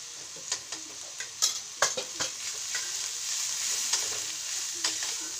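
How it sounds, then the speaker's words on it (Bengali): Spices (turmeric, chilli powder, cumin and green chillies) frying in a pan, with a steady hiss of sizzling oil and intermittent light scrapes of a stirring spoon, no voices. "ভাজা ভাজা করে নেব।"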